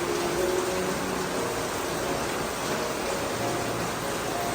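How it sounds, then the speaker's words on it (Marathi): A constant dense hiss of heavy monsoon rain outdoors in a Kokan village falls steadily without letup, broad and even throughout. "बाहेर पाऊस पडत आहे"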